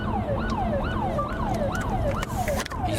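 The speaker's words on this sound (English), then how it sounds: "What's with the sirens?" Wailing emergency vehicle siren sweeping up and down in a steady, repeating cycle, loud and close amid street traffic, continuous throughout with no talk.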